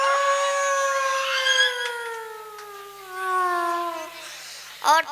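A human voice imitates a wolf howling: one long, gliding howl that slowly falls in pitch for about four seconds. It is loud and close, and a short yelping burst comes at the end.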